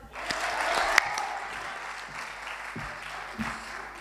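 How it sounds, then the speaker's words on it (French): An audience gives a speaker a round of applause, a crowd of clapping hands building quickly and then fading gradually to scattered claps. "Un tonnerre d'applaudissements pour Etmel Fnassi"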